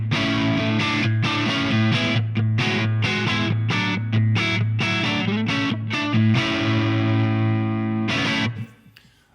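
Distorted electric guitar through a Nembrini BG-Extasy boutique three-channel amp plugin with a 4x12 Uber cabinet, playing loud chugging palm-muted riffs with heavy sustained chords, then stopping abruptly near the end.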